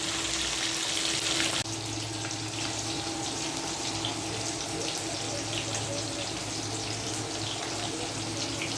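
A whole 3 kg tilapia coated in masala frying in very hot oil gives a continuous dense sizzle and crackle. A sharp burst at the start settles into a steady close hiss, with no talk.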